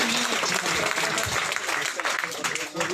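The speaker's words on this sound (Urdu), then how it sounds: "بھرپور تالیوں میں استقبال کیجیے" An audience applauds to welcome a speaker to the stage at a memorial gathering for a former Azad Kashmir assembly speaker, producing a dense, continuous clapping patter mixed with voices.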